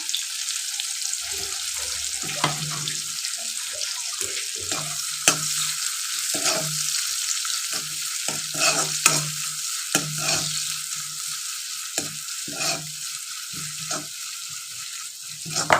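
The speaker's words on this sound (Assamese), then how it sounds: "অকণমান ভাজি লৈছোঁ" Onions and green chillies sizzle steadily in a hot pan, with frequent scraping stirs of a spatula at an irregular rhythm; no voices.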